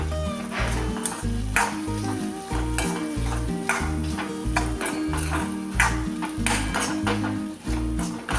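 Vegetables spiced with coriander and red chilli powder sizzle in a pan for bitter gourd curry, while a spoon stirs and scrapes in a regular rhythm, close up, with music playing underneath.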